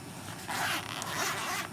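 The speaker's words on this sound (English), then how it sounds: "Nice zipper." A zipper on the carrying pouch of an Extech LT300 light meter is pulled open in one continuous close-up zip with a slight stutter partway through, quiet and alone with no talking.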